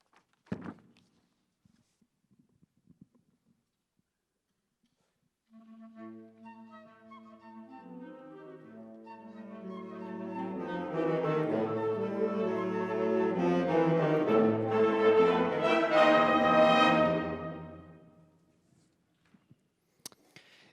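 The OU Symphony Band plays the main motive of a piece. Several seconds of near silence give way to a sustained, harmonically rich ensemble that swells steadily in volume, then cuts off abruptly near the end.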